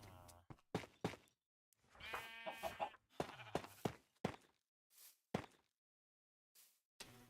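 Sheep bleating in Minecraft on a farm, several short bleats and clucking chickens alternating in bursts with quiet gaps, close and clear.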